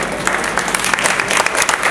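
A debate audience bursts into loud, close applause, a dense and unbroken wash of clapping throughout the short stretch.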